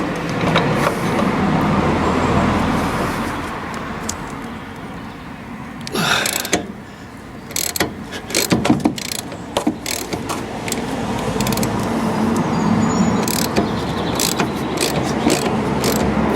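A ratchet turns a half-inch socket on the front suspension of an MGA 1600 under restoration. It gives close, loud bursts of rapid clicking between pauses, over a steady workshop background.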